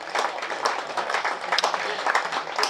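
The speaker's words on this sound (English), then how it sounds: "slowly we're seeing more and more of the members and spectators here at Chelmsford get to their feet to applaud Matt Critchley off the field" Members and spectators at a Chelmsford cricket match applaud batsman Matt Critchley off the field, a steady ripple of clapping at moderate distance that swells slightly near the end, with no talk over it.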